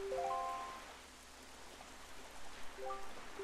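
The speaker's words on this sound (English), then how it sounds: "this place suffers under dark clouds and rain" Steady rain hisses across a cursed island in The Legend of Zelda: The Wind Waker HD, with soft chime-like game tones at the start and again near the end.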